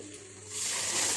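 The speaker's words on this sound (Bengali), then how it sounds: "এখন এটাতে ছোলা ঢেলে দিচ্ছি" Boiled chickpeas are tipped into a hot pan of spiced fried onions, setting off a rising hiss and sizzle that swells and stays loud at the end, close up.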